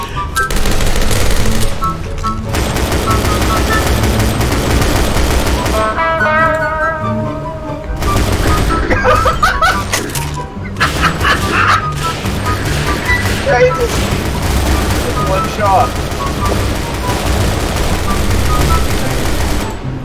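Constant loud gunshots and automatic fire from Double Action Boogaloo, dense overlapping bursts with brief gaps, game music and effects underneath.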